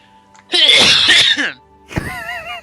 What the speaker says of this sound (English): I'm trying to fake cough, and sometimes it comes out as a real cough.